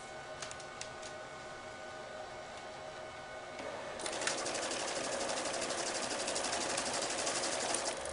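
A currency counter runs a stack of mixed bills: a faint mechanical whir for the first few seconds, then a louder rapid rattling flutter of notes feeding through the machine until the end, with no talking.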